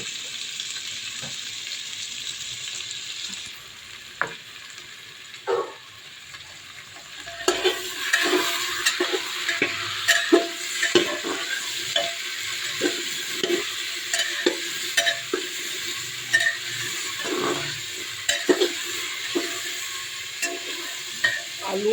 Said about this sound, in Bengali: আলু আর কাঁঠালের বিচন ভাজা ভাজা হয়ে গিয়েছে।